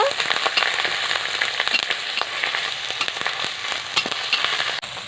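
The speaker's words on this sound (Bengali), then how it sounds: "এবার দিয়ে দেবো রসুন বাটা আদা বাটা শুকনো লঙ্কা বাটা সব মশলাগুলোকে ভালো করে কষে নেব" Garlic paste, ginger paste and dried red chili paste sizzle steadily in a pan for an egg omelette curry, a dense continuous frying hiss with light scattered crackles and occasional spoon scrapes, close and alone.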